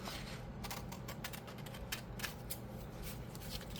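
Scissors cutting out a paper piece for a Celtic junk journal, faint, close snipping and rustling with soft repeated cuts throughout.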